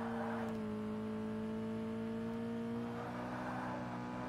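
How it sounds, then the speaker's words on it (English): A car in the Forza Motorsport racing game strains up a hill climb, its engine holding a loud, steady droning tone with a slight pitch shift partway through, alone and up close. "This car's only just managing this hill climb,"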